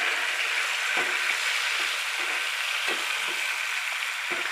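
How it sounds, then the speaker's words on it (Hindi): Chopped tomatoes hit a pan of onions and garlic, sending up a steady loud sizzle of frying with occasional soft scrapes of stirring beneath the hiss. "टमाटर ऐड करेंगे कटे हुए"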